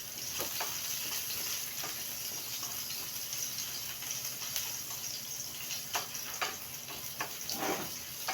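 Sliced onion frying in a pan for Filipino chop suey, a soft steady sizzle under faint ticks and occasional stirring clatter, fairly quiet and without speech.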